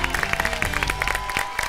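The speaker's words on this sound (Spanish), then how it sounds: "Un fuerte aplauso para Jerónimo Ulloa" A studio audience on the Pasapalabra game show applauds a contestant, a pharmacist, with dense, steady clapping that holds at an even level for under two seconds.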